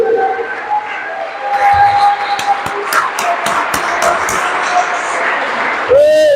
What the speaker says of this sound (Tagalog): Malakas na palakpak sa Diyos,